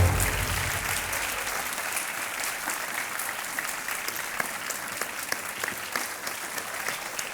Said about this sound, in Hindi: ताली बजती रहनी चाहिए इनके लिए।